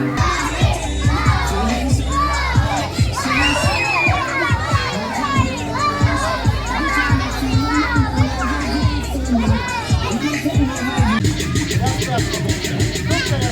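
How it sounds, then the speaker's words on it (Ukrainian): Kindergarten children at an end-of-school-year graduation party shouting together in a loud, excited chorus of high voices, with bursts of cheering and chatter and an adult voice talking among them. "зараз на рахунок три всі кричимо «Уйпукни»"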